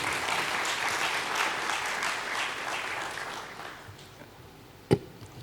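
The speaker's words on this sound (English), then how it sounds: "Can we give Kwame another round of applause?" An audience at a blockchain conference gives a sustained round of applause for a speaker, loud and steady at first, then thinning out before one sharp knock near the end.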